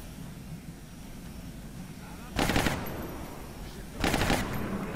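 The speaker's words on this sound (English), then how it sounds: "There's the covering fire." Covering fire in an XCOM-style squad tactics game against UFO aliens, two short loud bursts of automatic gunfire about a second and a half apart over low background ambience.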